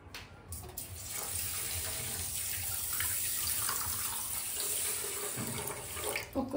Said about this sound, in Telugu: ఒక గ్లాస్ వాటర్ వేసుకుందాం